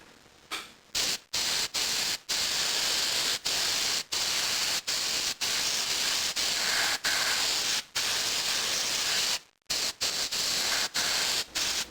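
An airbrush sprays black acrylic paint onto a model car in a string of steady hissing bursts, each cut by brief pauses, close and loud with no talking.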